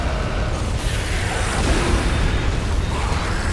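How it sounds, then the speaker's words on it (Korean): Explosions in the zombie shooter Zombie Army Trilogy, a loud, dense rumbling blast that fills the stretch with a sustained booming roar, no voices over it. "이게 폭발 자체가 좀 도움은 돼"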